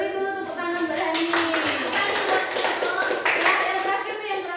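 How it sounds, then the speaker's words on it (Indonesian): A classroom claps for a student, a steady round of hand-clapping from a group of students that lasts several seconds, with young voices mixed in. "Beri dulu tepuk tangan Mbak Hani."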